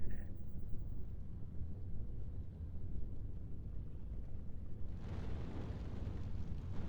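An artillery explosion in the WWII strategy game Steel Division 2 makes a deep, rolling rumble that persists throughout, swelling into a brighter, heavier burst near the end.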